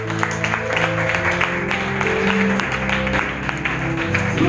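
A church congregation applauding and clapping steadily to acclaim Jesus during an evangelistic service, a dense sustained wash of many hands with faint musical tones underneath.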